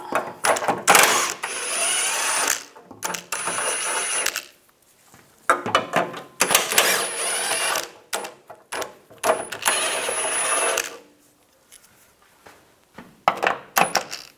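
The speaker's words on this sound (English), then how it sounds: "Take a 13mm socket, take these bolts out." A 13mm socket on a ratchet removes the bolts holding the lower shield under a 1996-2002 Toyota 4Runner, giving bursts of metallic clicking and rattling separated by short quiet gaps, close and moderately loud.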